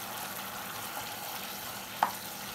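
Boiled pasta gets mixed into red tomato gravy frying on low heat, a soft, steady sizzle with one quick metallic clink of a spoon against the pan.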